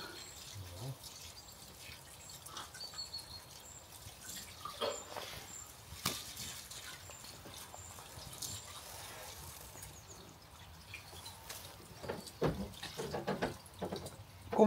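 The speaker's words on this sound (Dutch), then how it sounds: "Dakgoot loopt weer door, hè?" Water running out of a roof gutter, a faint trickling and dripping flow with scattered splashes, heard quietly beneath someone talking nearby and growing a little busier toward the end.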